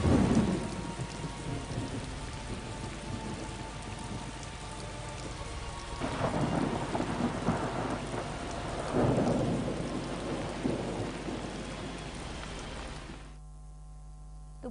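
Heavy monsoon rain and a thunderstorm in Gujarat's Amreli region pour steadily in a dense roar, with rolling thunder surging mid-way before the downpour drops to a quieter hiss near the end.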